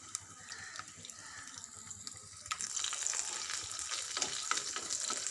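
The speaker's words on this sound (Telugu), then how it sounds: "బాగా సన్నగా తరిగిన వెల్లుల్లి ముక్కలు బాగా వేగించుకోవాలి." Finely chopped garlic frying in oil with mustard seeds, a steady close sizzle that grows louder and denser halfway through, crackling with small pops.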